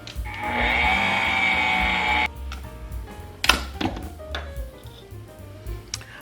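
Electric mixer on low speed beating pound cake batter with milk, pineapple juice and flour, a steady motor whir for about two seconds that cuts off abruptly, followed by scattered clinks and bowl clatter.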